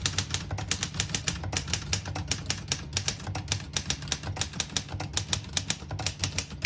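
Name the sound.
typing a sentence on a 1949 Underwood Leader portable typewriter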